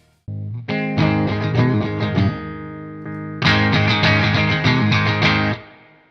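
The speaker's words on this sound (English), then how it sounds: "I'm running the clean preamp into this Marshall head's main input and using it as a boost." An electric guitar runs through a Two Notes clean preamp used as a boost into a Marshall head, playing loud, driven chords and riffs with a thick amplified tone, pausing briefly before ringing out again and fading at the end.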